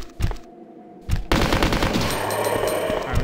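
Rapid machine-gun fire from a Resident Evil 2 mod game, a short burst, a brief pause, then a sustained loud stream of shots with no talking.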